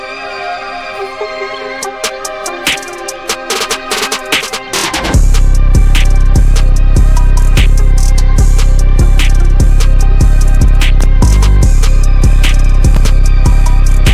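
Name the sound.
hip-hop beat with distorted 808s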